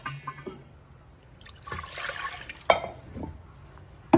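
A short burst of water rushing and pouring for about a second, followed by splashes and trickling, with quieter handling noises before and after.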